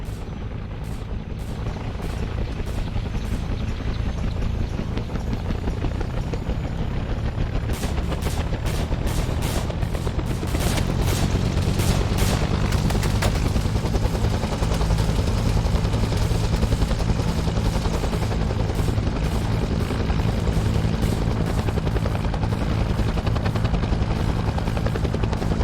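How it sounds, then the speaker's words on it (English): A Huey helicopter spins up in a Vietnam War video game, its rotor drone building steadily and loudly while bursts of gunfire and explosions crackle around it. "Spinning up the chopper."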